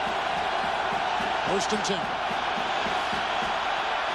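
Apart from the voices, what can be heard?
football stadium crowd noise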